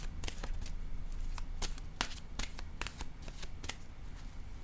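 Oracle cards being shuffled by hand, a dense run of crisp riffling snaps and flicks, close and fairly loud, with no one speaking.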